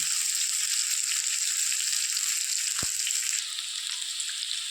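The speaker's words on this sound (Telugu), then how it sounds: "ఇలా వేసుకుని వేపాలండి" Taro root pieces fry in oil in a pan with a steady, bright hiss close up, dropping slightly in level near the end, with one faint knock and no talking.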